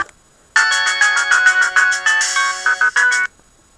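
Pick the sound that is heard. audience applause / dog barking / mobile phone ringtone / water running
mobile phone ringtone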